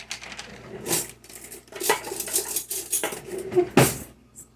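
A metal spoon scrapes and clinks against a bowl while heaping mayonnaise is scooped in for tuna salad, several distinct taps and scrapes at an uneven pace, close up with no talking.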